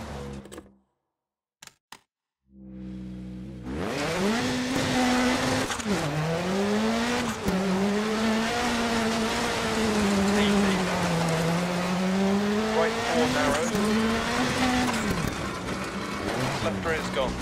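Polo WRC rally car in DiRT Rally, a gravel stage in Greece, driving on after losing a rear tyre, with a loud, steady engine note that rises and falls through gear changes and runs almost the whole clip after a brief quiet start.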